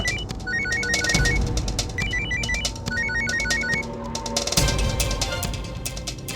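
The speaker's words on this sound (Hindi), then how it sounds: "मम्मा आपका फोन।" A phone rings in repeated bursts of bright electronic trills, fairly close, over a background of clattering room noise.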